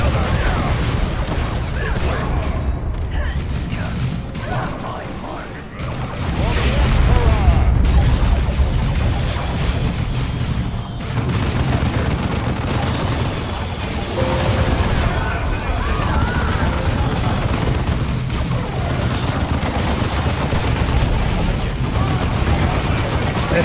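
Grenade blasts and gunfire ring out in the Warhammer 40K video game Dawn of War 2, booming explosions and crackling fire layered densely throughout while players talk over the battle.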